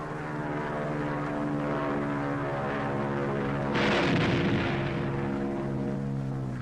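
Propeller-driven military aircraft roaring steadily overhead during a 1944-era bombing practice run on a dummy target, a constant droning engine tone that swells briefly louder midway, with no talk.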